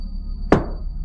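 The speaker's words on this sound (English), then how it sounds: "It was the knocking again." A single loud knocking thump in an animated horror story, one sharp near impact in a quiet room, fading quickly with a faint steady high tone in the background.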